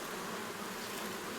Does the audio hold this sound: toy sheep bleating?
no